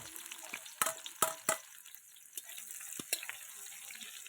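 Onions going into hot oil in a home kitchen pan, frying with a steady sizzle and a few sharp crackles and stirring clatters, heard alone without talk.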